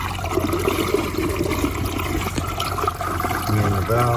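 Water rushes steadily from an opened PVC valve through a chute and funnel into an off-grid hillside cistern, a continuous splashing pour heard close up.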